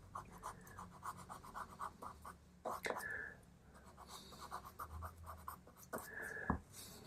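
Pastel pencils scratch across paper while a tabby cat is drawn: quiet, rapid rhythmic strokes in short bursts, close and faint.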